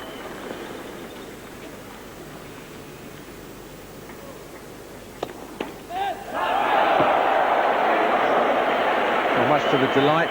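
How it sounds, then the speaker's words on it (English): A home crowd at the 1995 Davis Cup Final tennis match, USA versus Russia, bursts into loud, sustained cheering and roaring after a quieter murmur. A commentator talks beneath the noise. "Much to the delight of the home crowd."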